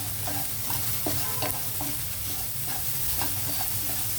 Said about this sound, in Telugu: ఉల్లిపాయలు వేగాయి కదండి చక్కగా